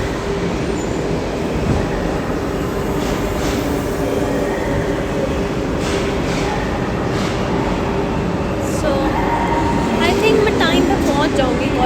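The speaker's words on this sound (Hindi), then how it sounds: "तो ट्रेन आ गई है।" Renfe commuter train arriving at a station in Spain: loud, continuous rumbling roar with rattling wheels and faint squeals across the whole span, with a voice talking over it.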